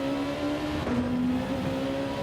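Race car engine in Gran Turismo 7 drones at a steady, sustained pitch with a faint whine above it, running continuously and loud at close range, with no talk over it.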